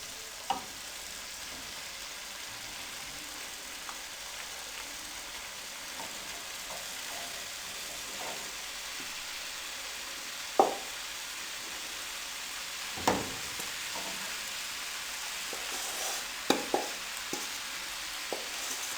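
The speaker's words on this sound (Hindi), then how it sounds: "लो फ्लेम पे इन सब चीज़ों को अच्छे तरीके से मिक्स करना है।" Fried vegetables and rice for restaurant-style Chinese rice are stirred in a pan over a low flame, giving a soft continuous sizzle broken by occasional louder scrapes and clanks of the spatula, with no talk.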